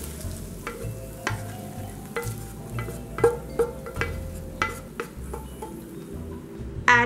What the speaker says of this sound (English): I just left the bacon grease in the pan, and I'm using that to get this all heated up